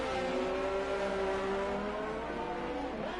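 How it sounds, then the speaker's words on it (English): A Renault-powered Alpine Formula 1 car in a racing video game holds a loud, steady, high-pitched engine whine, its pitch wavering slightly throughout, with no talking over it. "Alpine's engines sound cool. I know they're powered by a Renault."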